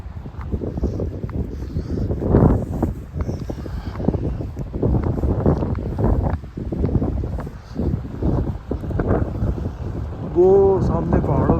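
Strong wind sweeps the boating point at Lake Minnewanka in Banff, roaring and buffeting the microphone in loud gusts throughout while a person keeps talking over it.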